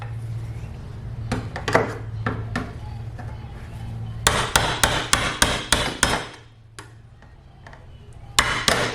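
Hammer taps on pried-out window sill trim being knocked back into place: scattered single knocks, then a quick run of sharp, close blows, a pause, and a few more strikes at the end, with no talking.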